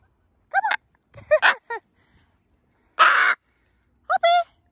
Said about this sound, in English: There's a crow